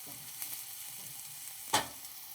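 Chopped red onions sauté in a pan with a quiet, even sizzle and faint crackling, then one brief sharper clatter near the end, heard close with no talking.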